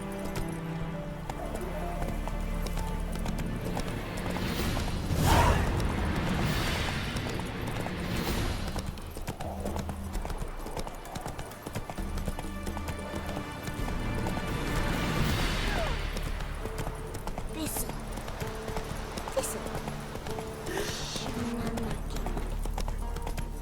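Horse hooves clip-clop steadily under a constant rumble of game ambience and music while a rider guides the horse in The Witcher 3 video game.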